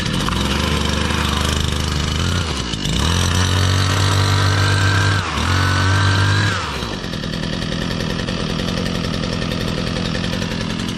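A Husqvarna 122LK straight-shaft string trimmer engine runs loud and close after starting, a raspy small-engine drone that dips and surges twice before settling into a steady run, with no talking.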